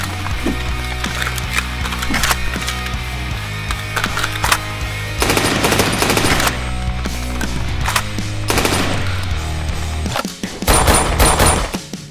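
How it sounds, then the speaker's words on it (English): Bursts of rapid automatic gunfire, shifting between sustained rattling runs and short pauses, loud and close, alone without speech. "This one has a high rate of fire and an efficient reload speed."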